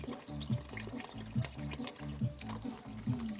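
Tap water runs steadily while washed plates are rinsed, with repeated squeaky rubbing of dishes recurring in an even rhythm close by.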